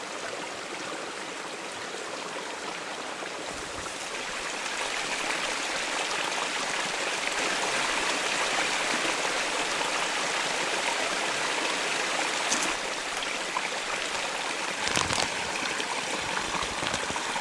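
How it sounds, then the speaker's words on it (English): A mountain stream rushes steadily over rocks in a loud, continuous broadband wash that swells slightly after the first few seconds, with no voices. "I absolutely love hiking streams like this."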